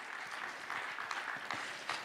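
Faint audience applause at a conversation on startups and industry leaders, soft, steady clapping from a crowd heard at a distance for a couple of seconds.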